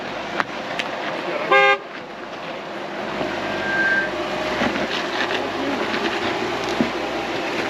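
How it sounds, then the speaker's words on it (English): A short, loud car horn honk sounds once early on, then gives way to steady outdoor traffic rumble and background noise. "Honk your horn!"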